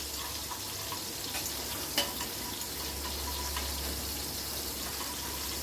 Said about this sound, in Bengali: ওই তেলে দিয়ে দিলাম হাফ টেবিল চামচ মতো গোটা জিরেটা একটু ফ্রাই করে নেব।